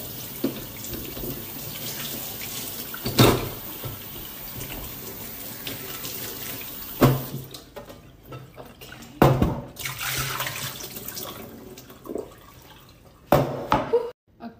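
Water runs steadily from a kitchen tap into a sink while food is rinsed, a continuous close hiss broken by several louder splashes and clatters as items are moved under the stream.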